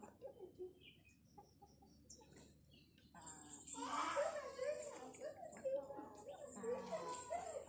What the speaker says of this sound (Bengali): সব মুরগিগুলো খাচ্ছে দেখো